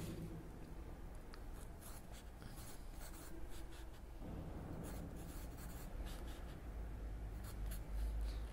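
A teacher writes on a board in a classroom, producing faint, continuous scratchy strokes with short taps and pauses, and no voices are heard.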